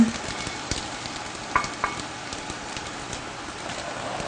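Roasted coriander seeds tipped out of a hot pan with a soft, continuous sizzling rustle and a few light scraping taps, fairly close and with no talk.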